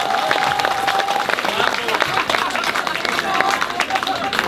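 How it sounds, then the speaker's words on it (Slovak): Audience at the opening of a spa's summer season applauds an accordionist with steady, close clapping and a light murmur of voices, while a brief tone sounds faintly underneath. "a to si zaslúži potlesk"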